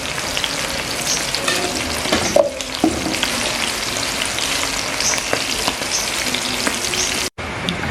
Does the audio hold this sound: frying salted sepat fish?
yes